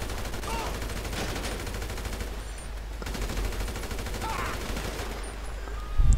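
Gunfire in Grand Theft Auto V during a shootout with armored gang members firing from a car: dense, continuous bursts of shots over a loud in-game soundscape, with a sharper thump at the very end.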